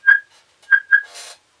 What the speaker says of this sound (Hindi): ये सीटियां कहाँ बज रही हैं